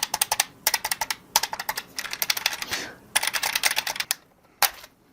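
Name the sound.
pressing keys of a mechanical-keyboard-style calculator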